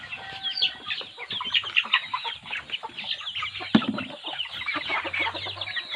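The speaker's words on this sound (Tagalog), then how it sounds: "Mga alaga kong manok." Backyard pet chickens cluck and chatter close by in a busy, irregular stream of short calls from several birds, with one sharper squawk partway through and no talking.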